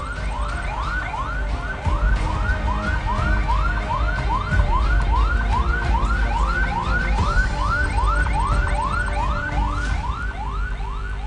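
A referral ambulance arriving at IHC Cilegon hospital during an industrial disaster drill, its siren close and loud, wailing in steady repeated rising and falling sweeps over a low engine and road rumble, with no voices.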